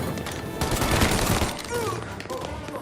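Gunfire in the Mafia: Definitive Edition video game, a dense burst of rapid shots in a loud firefight, with a voice shouting over the shooting.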